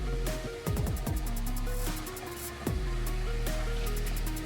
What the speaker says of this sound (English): I'm gonna turn the cold water on and see what happens